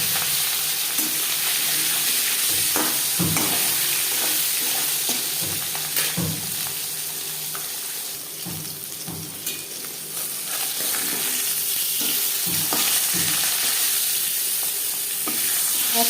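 Katla fish sizzling steadily in about three spoons of hot mustard oil, a loud, continuous fry with scattered pops and crackles throughout and no voices.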